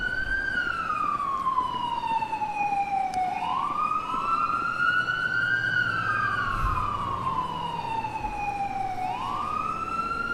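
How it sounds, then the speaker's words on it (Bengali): A police car siren in the video game GTA 5 wails in slow, rising and falling sweeps, steady and prominent over a constant background rumble for the whole stretch. "পুলিশের সাইরেন শুনতে পাচ্ছি গাইজ"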